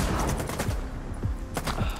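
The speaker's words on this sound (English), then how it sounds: "Is there a guy shooting me somewhere else?" Rapid bursts of gunfire in STALKER 2 Heart of Chornobyl, a close, dense volley of repeated shots cracking in quick succession for about two seconds.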